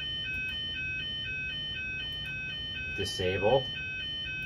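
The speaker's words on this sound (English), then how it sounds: "and the alarm will go off" A high electronic alarm beeps in a fast, steady repeating pattern throughout, with someone briefly speaking over it near the end.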